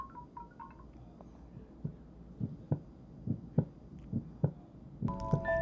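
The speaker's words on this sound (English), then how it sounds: "Heartbeat." Heartbeat sound from a FamiSym Pixie Pro white noise sound machine: soft, low, evenly spaced double thumps over a quiet hum, with a few brief electronic chirps at the start and end.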